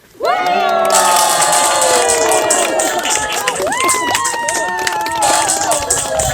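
A lecture audience at a rural farm-experience gathering bursts into loud, sustained shouting and cheering, many voices roaring together with rising and falling whoops that stay strong to the end.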